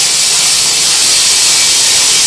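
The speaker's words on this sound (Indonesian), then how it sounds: "Tuh, uapnya udah keluar." Steam hisses loudly and steadily from Arabica coffee beans of the Rejang Lebong kind as they roast, a close, unbroken bright rush with no voices.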